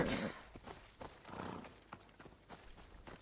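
Hooves clip-clopping in an uneven walking rhythm, close by, with a brief horse whinny at the start and a soft whooshing swell midway, from a horse in Assassin's Creed Odyssey.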